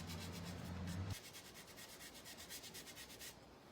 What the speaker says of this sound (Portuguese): É bem limpar o pincel na peça, né? Esfregar